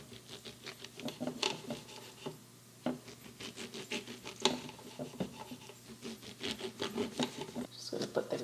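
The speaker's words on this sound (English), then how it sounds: "We're going to use a serrated knife to cut it." A serrated knife saws through a chilled roll of homemade puff pastry, making close, crackly rasping strokes in a quick back-and-forth rhythm with brief pauses between cuts, and no one talks.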